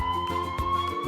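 A fire truck siren wails in a steady, slowly rising tone, close and loud throughout a short burst with rhythmic pulsing underneath.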